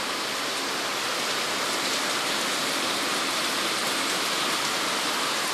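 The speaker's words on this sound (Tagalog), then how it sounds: "Maghapon magdamag na naman ang ulan." Typhoon rain pours down without letup in the Philippines, a thick, uniform wash of falling water holding steady for several seconds, no talk over it.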